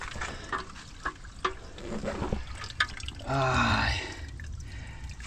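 Water from a holy spring trickles and splashes close by along a mountain-bike pilgrimage route to the Lavra, steady pouring swelling midway, with a brief voice exclamation.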